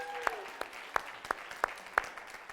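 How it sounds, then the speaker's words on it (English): At a tribe night gathering, a handful of sharp, separate claps land in a slow, even rhythm, six distinct hits about a third of a second apart, fairly quiet and with no other sound around them. "Give her another big round of applause."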